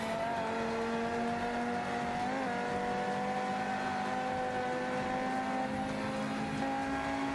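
A production rally car in Forza Motorsport 5 runs flat out at full throttle, its engine holding a loud, steady, high-revving whine with a brief pitch wobble partway through, and no gear shifts.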